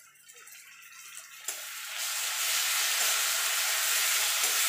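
Ginger-garlic paste sizzling among fried onions in a pan, starting as a quieter frying crackle, then jumping to a loud, steady, close hiss after a sharp knock as the paste hits the hot oil.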